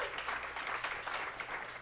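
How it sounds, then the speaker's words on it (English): Audience applause at a live comedy podcast recording in Washington, DC, a steady wash of clapping from a crowd held at an even level for the full stretch, with a faint low hum beneath. "Yeah, round of applause for that."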